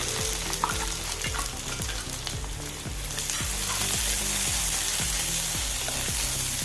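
Finely chopped large onion sautéing in a pan for dal palak curry, a steady loud sizzle with regular rhythmic thumps and scrapes of stirring, no voices.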